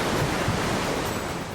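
A rain-swollen creek that has risen into a torrent roars close by, a dense, continuous rushing wash of water that holds steady throughout, with no voices.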